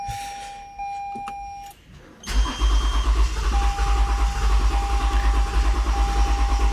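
A Toyota Avalon with a newly replaced fuel pump cranks with a starter whine and a chime in the background, then after a pause the engine catches and runs with a loud, rhythmic throbbing idle close by.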